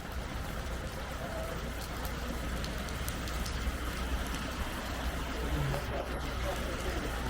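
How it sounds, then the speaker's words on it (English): Torrential rain pours down during a one-day motorcycle trip through the Jordan Valley, a dense, steady hiss of drops hammering surfaces that stays loud and unbroken throughout. "We got caught in the torrential rain."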